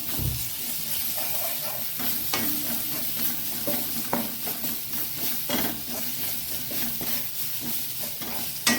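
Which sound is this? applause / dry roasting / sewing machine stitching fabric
dry roasting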